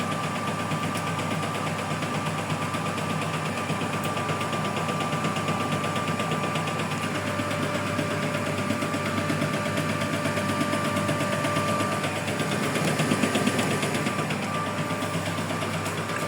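The motor of a brand-new Brandt washing machine runs on its first wash, a steady close mechanical hum with faint periodic clicking, heard alone and unchanging throughout.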